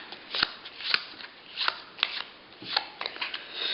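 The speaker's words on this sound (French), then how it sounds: "je vais faire défiler ces cartes ou une à une ou une à plusieurs" A deck of playing cards is riffled through for a magic trick, producing several short, crisp bursts of flicking paper at close range with brief pauses between them.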